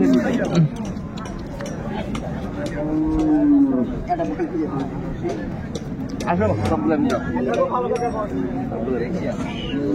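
Several dairy cows and calves moo in long, low calls, some overlapping, with faint chatter and occasional clinks in the background at a cattle market in Raniganj, Dinajpur.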